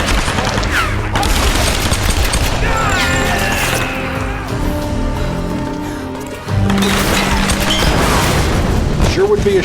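Explosions and crashing blasts in the video game Tomb Raider, loud booming bursts at the start and again near the end, with gunfire-like clatter and a game score, while someone talks over parts of it.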